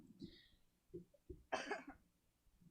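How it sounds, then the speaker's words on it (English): A sick streamer coughs several times in close succession, with a harsh, loud burst in the middle and softer throat sounds around it, close to the microphone and with no talking. "Please do mind my coughing."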